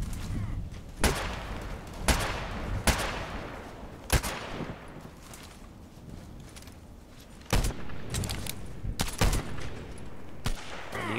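Gunfire in the Contract Wars shooter game, sharp separate shots and short bursts at uneven intervals, some close and loud, others further off, over a steady background.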